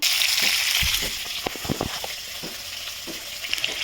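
Fish frying in a pan during village home cooking gives a steady, bright sizzle throughout, with scattered clicks and scrapes of stirring close by.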